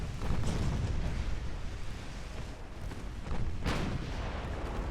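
Naval gunfire from warships in the video game Ultimate Admiral: Dreadnoughts, with a battleship engaging a destroyer, forms a dense, continuous rumble of heavy booms and blasts that swell and overlap throughout.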